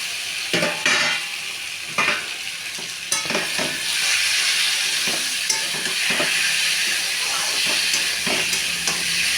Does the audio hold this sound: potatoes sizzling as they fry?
yes